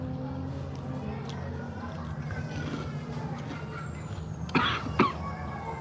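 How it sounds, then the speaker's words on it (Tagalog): Two short coughs close by, one right after the other, over a low steady background hum. "Inuubo na tuloy ako."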